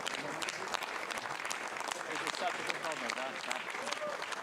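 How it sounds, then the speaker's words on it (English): Dense applause and clapping from a crowd celebrating the first launch of Europe's Ariane 6 rocket, a steady wash of many hands throughout, with voices mixed in. "Lots of clapping."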